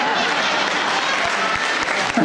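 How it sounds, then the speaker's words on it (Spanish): Steady, loud applause from an audience at a San Antonio Norteño gala, continuous clapping filling the whole moment with crowd noise mixed in. "El aplauso más grande para él."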